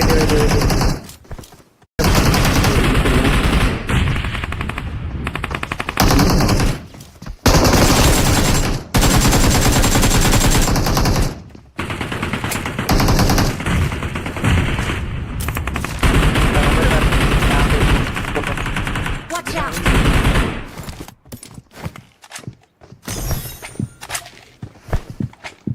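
Bursts of rapid BGMI video game gunfire crackle loudly and repeatedly, broken by short silent gaps, with footsteps and brief voices mixed in.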